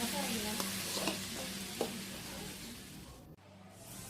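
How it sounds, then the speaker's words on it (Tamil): Tomatoes and onions soften in a pan for goat leg soup, a steady quiet sizzle with a few light stirring taps, close and unbroken by talk. "பார்த்திங்கன்னா நம்ம சேர்த்த தக்காளி வெங்காயம் எல்லாம் நல்லா சாஃப்டாக வதங்கிக்கிட்டே இருக்குது"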